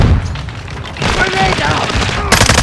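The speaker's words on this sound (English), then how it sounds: "Stun grenade out!" Stun grenade going off in Call of Duty Modern Warfare II: a sharp, loud bang bursts out over continuous rattling gunfire and booming battle noise.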